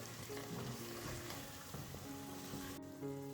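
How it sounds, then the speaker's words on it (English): Gongura mixture sautés in hot oil as it is mixed in, giving a steady close crackling sizzle with soft stirring scrapes throughout, faint tones in the background. "After sauteing for a minute, we are going to add the Gongura mixture to the oil."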